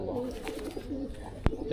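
A male pigeon's low, throaty coo rolls along under nearby voices, interrupted by a sharp click.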